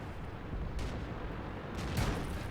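A tank gun firing in World of Tanks, two heavy booming shots with a short gap between them over a low rumbling battle background.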